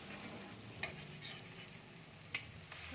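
Khesari dal and spring onion fritters fry in oil on a tawa with a steady low crackle. Soft scraping clicks mark them being turned, and no one speaks.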